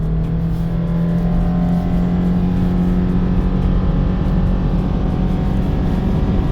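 A 2015 Subaru Forester Limited with a CVT that imitates no gear shifts, accelerating hard from standstill toward 100 km/h up a slight hill: a loud, steady, droning engine roar heard from inside, building without gear-change breaks.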